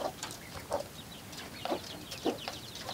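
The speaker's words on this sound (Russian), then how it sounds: "Куры, куры. Давайте, девчонки, идите сюда." Hens cluck repeatedly while pecking at cabbage, soft scattered clucks at close range over a quiet farmyard background.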